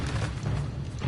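A Bombarda spell explosion in Hogwarts Legacy, a single deep, heavy boom that rumbles close and loud for about a second.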